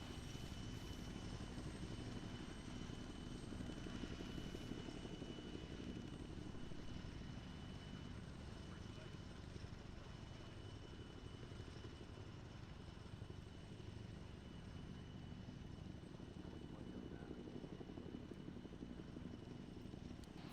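A Wildcat helicopter in the ARMA 3 video game during an island assault hums and drones continuously, a steady rotor and engine noise at moderate distance that stays even for the whole stretch, with no voices heard.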